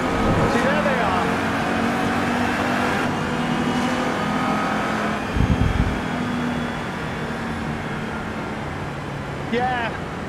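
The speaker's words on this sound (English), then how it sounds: "Yeah, the car is loud." A loud, steady racing car engine drone from the video game Assetto Corsa Evo, with a mechanical hum, a brief thump midway, and occasional speech-like bursts over the continuous roar.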